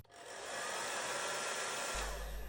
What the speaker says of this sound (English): So I'll get my hair dryer.